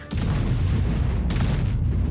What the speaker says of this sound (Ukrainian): 180-мм молот гримить так